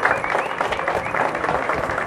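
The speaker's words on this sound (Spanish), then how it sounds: "y muchos y fuertes aplausos para él." Spectators applaud at an award ceremony for a running race through the four cantons of Santa Lucía Utatlán, a dense, close burst of clapping and crowd noise that continues for a couple of seconds.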